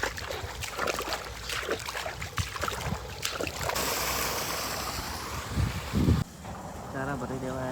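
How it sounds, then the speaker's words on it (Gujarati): Irrigation water flows and gushes into a farm field with a steady rushing wash, with wind and a voice speaking at times over it. "ખેતરમાં પાણી ચાલુ છે પૂરું"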